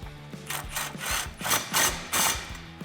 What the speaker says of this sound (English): Now we can tighten down the clamp at the back end.